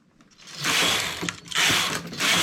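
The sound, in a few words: knitting machine carriage passed slowly across a row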